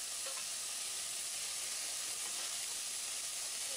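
Tomato pieces sizzle and hiss as they are stirred with browned onions and curry leaves in a pan, a soft continuous frying sound with faint stirring, no talk.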